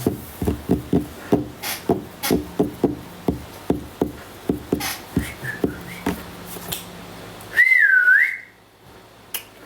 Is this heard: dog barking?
no